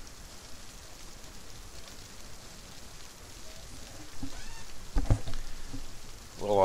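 Light rain falls steadily outside an airport, a soft even hiss that swells slightly toward the end, with a few faint knocks and a brief whine near the close.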